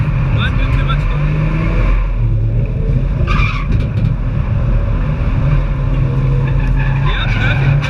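A car drifting on a track, its engine roaring loud and steady with a droning tone as the tyres scrub and squeal, close throughout with people talking over it.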